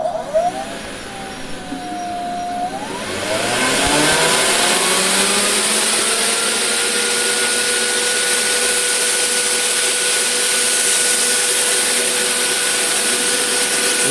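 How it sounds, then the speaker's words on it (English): Exhaust fan of a 5 lb electric fluid bed coffee roaster spinning up, a rising whine that settles after about three seconds into a loud, steady broadband roar with a faint tonal hum. "right now I'm just going to turn the exhaust on."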